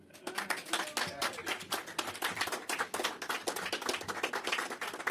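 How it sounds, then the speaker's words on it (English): A press conference audience stands and applauds steadily, dense overlapping claps filling the room for several seconds with no pause. "various people stand up and applaud"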